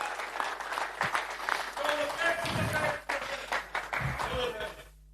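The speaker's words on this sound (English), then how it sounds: "give yourselves a big round of applause, everyone here in the audience at Raymond Terrace" An audience at a rugby league grand final at Raymond Terrace applauds, uneven clapping and crowd noise with talk mixed in, swelling and dipping before cutting off abruptly near the end.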